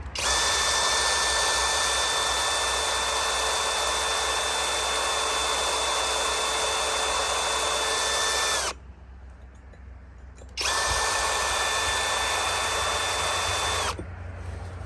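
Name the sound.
power drill drilling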